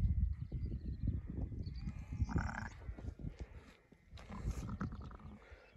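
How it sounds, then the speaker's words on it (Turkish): A sheep bleats in short bursts among a cold, snowy mountain flock in Nurhak, where a ewe has just lambed and dotes on her lamb. Steady wind or rustling runs underneath. "Hayvan ne kadar kusuna düşkün bir koyun."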